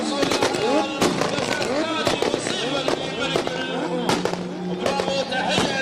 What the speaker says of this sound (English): That V10 fire.